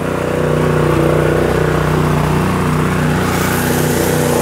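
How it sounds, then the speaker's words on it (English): An old lawnmower engine runs at a steady, loud idle close by, its rough droning hum continuous throughout with no talking. "the old lawnmower."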